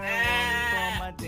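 A single sustained, wavering sheep bleat sounds close and clear, followed by a brief quieter second call.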